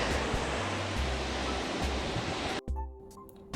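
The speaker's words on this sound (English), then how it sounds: "The waves are humongous" Huge ocean waves crash at a secluded beach on Nusa Penida, giving a loud, steady roar of surf that drops away abruptly near the end.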